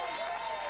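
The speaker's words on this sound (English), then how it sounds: "There's the crowd." A lawn bowls crowd at the 2013 Australian Open singles breaking into a brief burst of steady applause for a good bowl, close and dense, with no voices over it.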